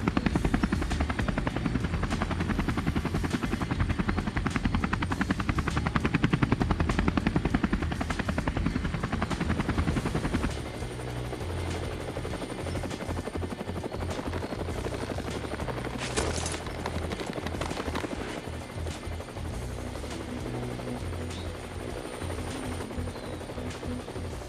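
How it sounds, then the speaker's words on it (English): Helicopter rotor noise in the video game Nero, a loud steady chopping drone that drops down partway through and keeps thudding more quietly alongside scattered game effects. "Somebody might have heard the chopper."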